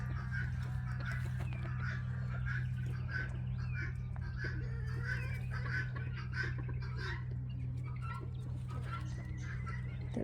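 Quails in a homestead aviary making steady soft clucks and chirps over a constant low hum, with no one speaking.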